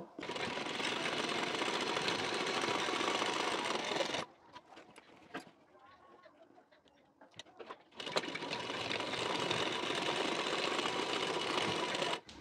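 A sewing machine stitches a blouse in two long, steady, loud runs, separated by a few seconds of quiet handling noise.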